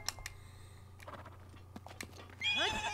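A horse in Zelda: Breath of the Wild neighs near the end, a loud rising and falling whinny after quieter game sounds and soft clip-clop hoofbeats with a steady low hum underneath.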